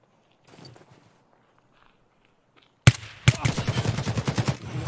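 Escape from Tarkov gunfire erupts after quiet footsteps: a sharp opening shot and a second crack, then a rapid automatic burst of evenly spaced, loud, close shots.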